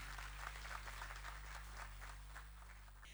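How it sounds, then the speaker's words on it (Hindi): An audience applauds to welcome a guest speaker at a formal Indian event, a steady patter of many hands clapping, faint and distant over a low electrical hum, without a break. "तालियों के साथ अभिनंदन"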